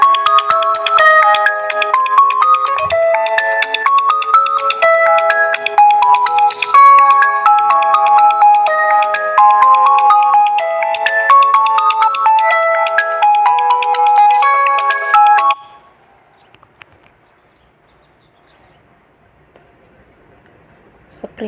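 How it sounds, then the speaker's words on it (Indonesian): A phone's ringtone plays a loud, bright repeating melodic tune for about fifteen seconds, then cuts off, leaving near silence. "Itu ada suara telepon ya."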